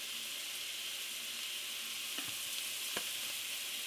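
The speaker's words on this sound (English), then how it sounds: "We're going to brown some ground beef." Ground beef browns in a pan with a loud, continuous close-up sizzle, broken by a couple of faint scrapes from stirring.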